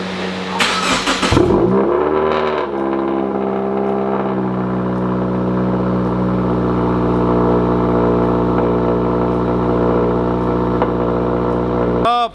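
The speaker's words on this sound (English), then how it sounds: "Let's get a cold start on her." A Subaru WRX with the FA20 engine cold starts: a loud starter crank and catch at the beginning, a brief revving flare, then a steady, high-idle drone of the engine sitting close by for the rest of the stretch.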